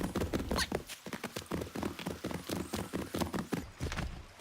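Quick rhythmic hoofbeats of a spurred horse galloping in Assassin's Creed 3, steady and close, with game ambience and a faint snort or whinny mixed in.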